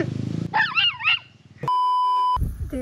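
Dogs barking and whimpering outdoors at a rural cob house build site, a few close yips and whines, followed by a steady electronic beep tone and more rustling.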